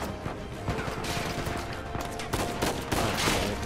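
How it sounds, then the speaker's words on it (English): Rapid gunfire from the Uncharted 4 video game, a dense fusillade of overlapping shots and impacts that runs loud and continuous throughout, with bursts sharpening in the second half. "I wonder if he's shooting at you."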